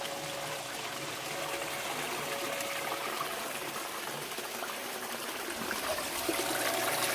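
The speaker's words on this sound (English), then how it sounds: "I am draining my nutrient tub" Water steadily draining out of a nutrient tub, a constant splashing, trickling flow heard close and unbroken with no voices.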